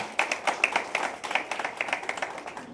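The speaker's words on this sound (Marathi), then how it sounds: "टाळ्या एकदा" An audience at a hospital gathering claps in a short, moderately loud burst of overlapping hand claps that patters on for nearly three seconds with no talk over it.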